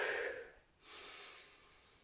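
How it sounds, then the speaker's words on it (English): Breathing in and out during a seated full-body workout for older adults: a loud airy inhale-like rush, a short pause, then a softer, longer breathy exhale, close up with no talk. "Breathe in and out."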